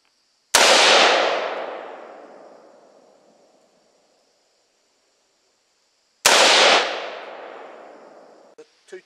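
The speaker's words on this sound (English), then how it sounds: "We're going to take our first shots with it." An AR-15 rifle firing .223 rounds through a Vortex-scoped setup at a 25-yard range: two loud, sharp cracks about six seconds apart, each trailing off in a long echoing tail, with faint handling noise at the end.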